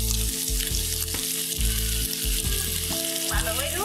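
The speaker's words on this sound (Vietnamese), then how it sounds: "Bây giờ mình sẽ cho cái phần nấm này vào mình xào nha." Mushrooms sizzle and crackle as they are stir-fried with golden garlic in a pan, a steady loud frying hiss with bursts of stirring scrapes and no talking.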